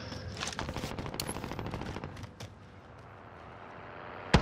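Call of Duty: Modern Warfare gunfire rattles in rapid, close bursts for about two seconds, then stops, leaving quieter background noise and a sharp thump at the very end.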